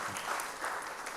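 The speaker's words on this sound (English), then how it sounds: "Give her a round of applause." Audience applause after a church sermon, a steady, even wash of clapping from the congregation filling the whole moment without breaks.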